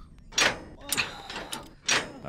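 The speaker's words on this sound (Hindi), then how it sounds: "ये दरवाजा खोल रहे।" A door is opened in a Hyderabadi film scene, heard as a few sharp creaks and knocks spread over a couple of seconds, fairly close and with no speech over it.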